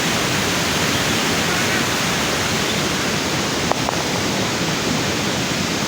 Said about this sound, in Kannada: ಅಷ್ಟೊಂದು ಸಿಕ್ಕಾಪಟ್ಟೆ ಮಳೆ ಐತೈತೆ ನೋಡಿ